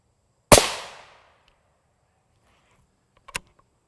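A rifle with a 22-inch barrel fires an M193 round at a Level III UHMWPE armor plate: one loud, sharp report with a decaying tail, then a fainter, briefer crack about three seconds later, with no talk.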